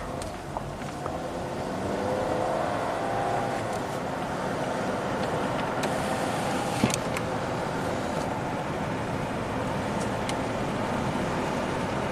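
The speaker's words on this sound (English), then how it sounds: "Runs beautiful. Smooth, quiet, shifts through the gears." A 2016 Ford Fusion with about 230,000 miles runs steadily and shifts up through the gears, giving a smooth, quiet, continuous engine and road drone with no talk over it.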